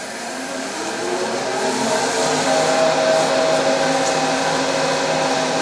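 Wood lathe spinning steadily while a tool cuts fine shavings from the turning workpiece, a continuous loud whirring hum that swells slightly partway through, with no voices.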